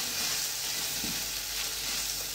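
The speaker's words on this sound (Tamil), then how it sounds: "மசாலா பொடியெலாம் எண்ணெயில் கொஞ்ச நேரம் நல்லா வதக்கி விடுங்க" Dry-roasted masala powder sautés in oil, making a loud, even hiss with soft stirring scrapes across a short stretch, close up and free of talk.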